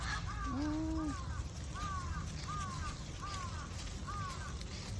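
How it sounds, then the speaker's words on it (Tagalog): A group of geese or ducks in a Japanese park gives repeated honking calls in clusters, moderately near, over a constant outdoor background hum. "Group of birds."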